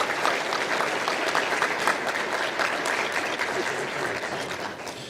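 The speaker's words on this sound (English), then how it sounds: "please stand up so we can give you a round of applause" A large audience applauds university leadership and support teams at an academic ceremony, a dense, steady wash of clapping that holds for several seconds and eases slightly toward the end.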